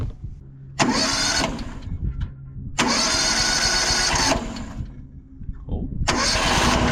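A sawmill engine is cranked with the choke on, with three bursts of loud, close cranking and sputtering separated by brief lulls, as if it has not yet caught.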